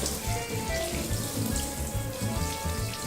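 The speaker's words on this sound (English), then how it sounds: "I'm gonna wash my hands." Running tap water splashing into a kitchen sink while hands are washed, a steady close stream with gurgling, irregular splashes.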